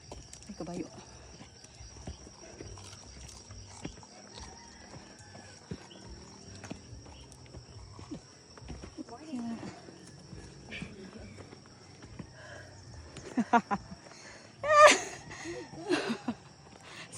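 Horse hooves clip-clop on a mountain trail near Osmeña Peak in Dalaguete, soft irregular steps under frequent talk, with a louder cluster of hoof strikes and rustling near the end.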